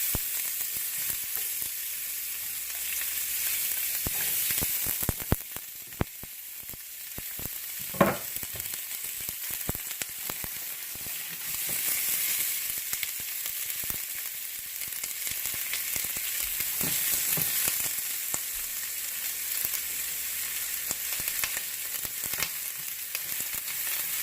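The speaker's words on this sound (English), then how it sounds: "take our chopped onions and peppers in. We're going to toss in a pat of butter along with the oil" Chopped onions and peppers fry in butter and olive oil over medium heat, a steady close sizzle running throughout with occasional louder crackles and stirring clatter, no voices.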